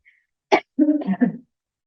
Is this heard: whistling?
no